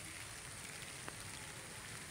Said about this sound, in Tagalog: Grabe, umuulan na naman.